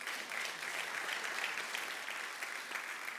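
A church congregation applauding during a Spanish-language sermon; dense, steady clapping from a large crowd fills the whole stretch at a moderate level, with no break.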